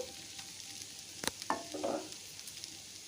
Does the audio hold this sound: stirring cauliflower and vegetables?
yes